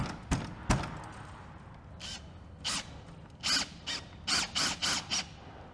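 A power drill driving self-tapping screws while fitting a sectional garage door whirs in several short bursts, quick pulses near the end, after a couple of sharp knocks at the start.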